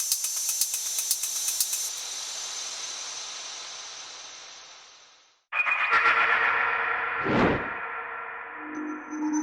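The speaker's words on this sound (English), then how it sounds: "the hi-hats, which have been processed through the Eventide Blackhole reverb, which I've just made massive" Hi-hats run through an Eventide Blackhole reverb with its size pushed very large, ringing into a long, bright, hissing wash that slowly fades, before fuller electronic tones and a swelling sweep take over.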